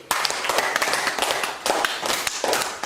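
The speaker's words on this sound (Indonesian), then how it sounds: "tepuk tangan untuk Nixi" Children in a classroom clap their hands together for a classmate, a lively burst of overlapping claps in uneven waves, loud and close.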